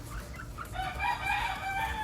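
Several gamefowl hens cluck and call continuously at a gamefowl farm, with a rooster-like crow rising midway, close by over a low rumbling background.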